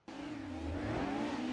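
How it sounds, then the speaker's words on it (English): A racing video game car, said to sound like a Renault V6, accelerates with a steady, loud engine drone whose pitch climbs smoothly over a short burst with no pauses. "In a bizarre way, that sounds like a Renault V6."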